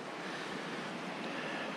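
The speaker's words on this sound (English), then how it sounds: "this is Mclusky Creek, and it's a fast-moving creek for sure." Fast-moving Mclusky Creek in the Yukon wilderness rushes in a steady, dense broadband wash, close and continuous, with no voices.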